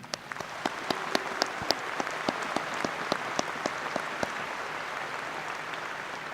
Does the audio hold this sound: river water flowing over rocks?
no